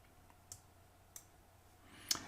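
Three soft, close mouse clicks spaced unevenly over a quiet background while sorting in an Excel spreadsheet, the last click slightly louder.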